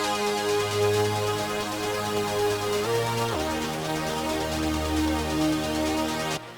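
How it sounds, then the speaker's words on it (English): Sci-fi synth in Arturia Pigments run through a downsample effect that degrades it into a gritty, aliased tone; sustained chords shift pitch midway, continuous and upfront with no voices. "then we have a down sample that kind of just degrades the sound a little bit"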